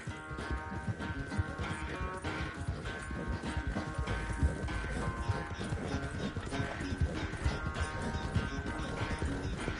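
Horse hooves galloping in Red Dead Redemption 2, a fast continuous clip-clop of hoofbeats over rumbling game sound, steady and fairly loud throughout.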